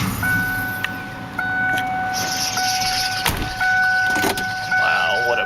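A 1993 Lincoln Town Car with dual exhaust and 289k miles drives slowly, giving a steady, close engine and road drone with a faint constant whine and occasional small knocks throughout.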